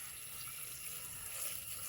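Water is poured onto apples in a cooking pot for apple pachadi, a faint, steady, hissing trickle of liquid lasting throughout, with no voices.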